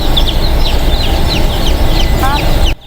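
Tiger breed chicken chicks peeping in a busy chorus of high, repeated chirps over a constant background, fairly loud and close.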